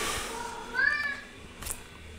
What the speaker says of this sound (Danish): Meget larmende kat